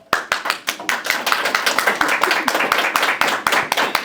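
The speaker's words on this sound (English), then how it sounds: "Everybody clap." A class of students claps for their teacher, Miss Carver, in a close, loud burst of fast overlapping hand claps that holds steady for several seconds, with voices faintly underneath.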